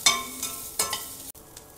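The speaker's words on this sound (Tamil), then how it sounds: "டைஸாக வெட்டி வச்சுருந்த வெங்காயமும் பச்சை மிளகாய் அப்படி போட்டுடலாம். இதுவும் வதங்கட்டும்." Diced onion and green chilli sauté in a pan with soft bursts of sizzling and stirring scrapes, two louder stirs early on, close and with no voices.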